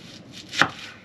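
A kitchen knife comes down once on an onion being cut into small pieces inside a caravan, giving a single sharp chop against the board amid quiet.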